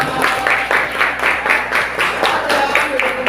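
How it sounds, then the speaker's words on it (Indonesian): Applause from a roomful of teachers and students in a school coaching session, dense, even clapping of many hands that rises and swells in bursts at close range, with some voices underneath. "Tepuk tangan dong."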